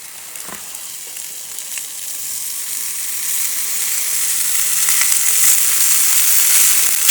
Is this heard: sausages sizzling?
yes